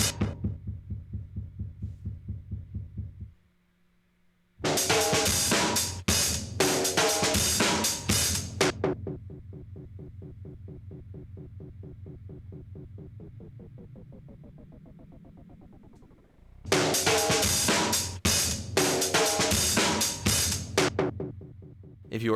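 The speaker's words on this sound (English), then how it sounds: "taking the output of the envelope and inverting it, and sending that to the filter's cutoff, so it pulls the cutoff down when the freeze input is activated" Modular synth patch drones with a pulsing rhythmic tone, its brightness dropping when an inverted envelope pulls the filter cutoff down, then bright bursts return; steady and close with a short gap near the start.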